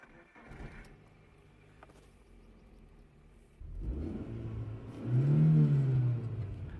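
A cheap old car's engine idles quietly, then revs up into a louder, rising mid-pitched growl that swells to a peak before easing slightly, heard close and alone.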